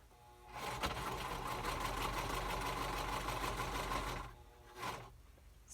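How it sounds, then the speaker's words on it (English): A sewing machine stitching around a spring journal cover: a steady, rapid mechanical whir for about four seconds, then a brief stop and a short second burst, close and alone with no talk. "I'm going to stitch right around there"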